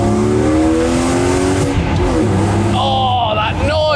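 A coupe's engine revs hard and accelerates, loud and close from inside the car, with rising harmonic pitch sweeps and a brief higher whine near the end.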